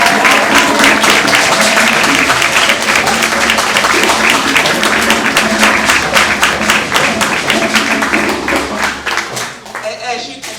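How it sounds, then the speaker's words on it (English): An audience at a Kwanzaa Imani Night program applauds loudly and continuously, individual claps distinct, tapering off near the end with some voices mixed in. "Please give him a round of applause."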